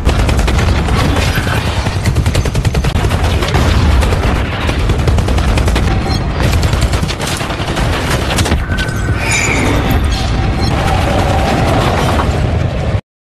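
Gunfire in a Los Angeles gangster film scene, a dense fusillade of shots and booms running loud and continuous throughout, with machine-gun-like bursts and heavy blasts packed together.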